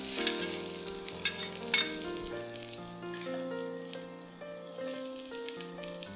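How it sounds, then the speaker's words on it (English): Minced ginger and garlic fry in hot oil, a bright crackling sizzle with several sharp pops early on that eases into a quieter, steady hiss. Sustained musical tones play underneath, and no one speaks. "Fry them for about 30 seconds to 1 minute till they are fragrant."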